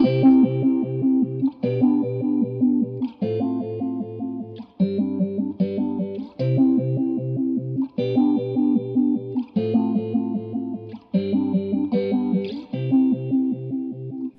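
Distorted electric guitar chords strummed in a steady repeating pattern through a Chase Bliss Wombtone mkII phaser pedal, with a sweeping, swirling phase effect; loud and alone, with no voices.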